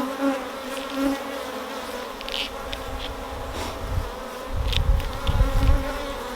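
Agitated honeybees buzz loudly and close during a hive inspection, a dense continuous hum that swells with low rumbling handling noises toward the end.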